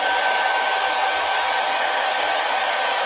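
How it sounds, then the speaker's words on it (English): A hair dryer blows continuously, a loud steady close-up whoosh drying chalk paste on a silkscreen-transfer craft project, with no speech. "I'm going to get out my hair dryer"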